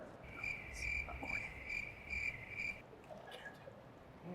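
Cricket chirping is added as a comic sound effect, a steady high trill pulsing in quick repeated bursts for a few seconds before fading out, quiet and alone without speech.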